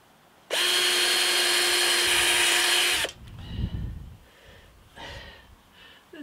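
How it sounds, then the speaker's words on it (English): A power drill whines loudly at high speed for about two and a half seconds while drilling a very hard alloy, then stops, followed by quiet breathing and faint handling noises. "use the drill as a marker and then drill them separately"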